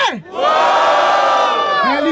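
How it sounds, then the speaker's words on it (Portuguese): A crowd at a rap battle roars and yells in a loud, sustained burst of shouting and whooping, close and filling the space. "Barulho pras rimas do LC!"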